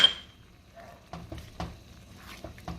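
A spoon stirs zucchini parmesan risotto in a pan, with soft scraping strokes and wet, sticky sounds at an irregular pace, close and quiet against a faint sizzle.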